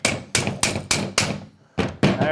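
A small hammer whacks a Magwedge KWIKRAIL rail system onto an SKS rifle, six sharp metallic strikes in an uneven rhythm with a short pause before the last two, close and loud.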